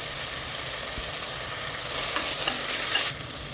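Sliced onions, green chillies and mint frying in a pan for chana pulao, a steady close sizzle with a few scraping stirs near the end, no talk.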